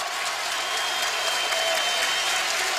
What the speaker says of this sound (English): the crowd here is back into it on the turnover